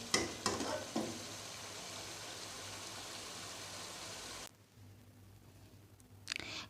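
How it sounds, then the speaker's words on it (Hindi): Chicken sizzles and fries in a karahi while being stirred, a soft steady hiss with light scraping that stops abruptly partway through, then returns briefly at the end. "चिकन को भून रहे हैं।"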